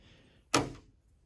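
The car door of a 1967 Mercury Cougar opens with a single short, close thunk and latch release, heard alone against quiet background.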